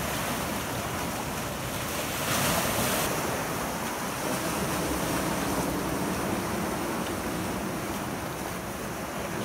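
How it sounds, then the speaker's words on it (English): Sea waves break at Thornwick Bay in a continuous, broad wash of surf, steady and moderately loud with wind buffeting the microphone, and no voices. "You can see further out there's some right waves breaking on that corner."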